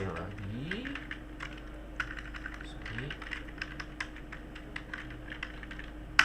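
Computer keyboard typing while Java code is edited, a steady run of quick, light key clicks with occasional louder taps, close by under a faint low hum.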